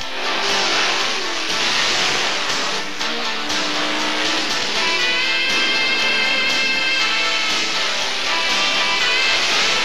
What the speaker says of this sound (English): the whine of a Hemi engine